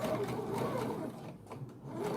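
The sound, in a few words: sewing machine stitching around a hole in fabric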